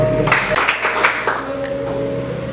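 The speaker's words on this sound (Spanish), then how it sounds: "Aplauda al Señor" A church congregation claps during a sermon, a burst of applause that thins and fades out over a couple of seconds above a sustained low musical tone.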